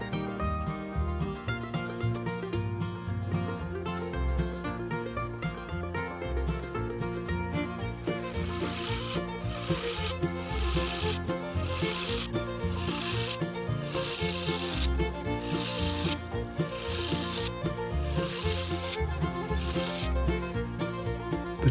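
A wooden honey jar lid spins on a lathe as it is turned, giving a continuous close rubbing, scraping rasp with rhythmic pulses that grow brighter and harsher partway through.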